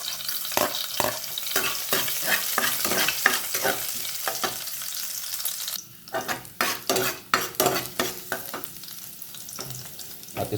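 Garlic and ginger sautéing in oil for chicken sotanghon soup, a continuous sizzle with frequent rhythmic scrapes and taps of a spatula stirring against the pan, louder and choppier in the second half.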